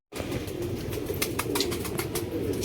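Two perched pigeons coo softly and steadily close by, with light rustling and an occasional flutter of wings.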